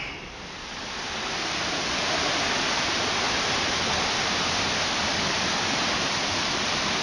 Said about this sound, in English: Pretty little waterfall, hundreds of feet